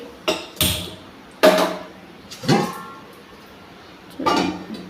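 A kadai set down on a gas stove while cooking Kerala sambar, giving several sharp metallic clanks and knocks spaced out over a few seconds, close and fairly loud with no talking.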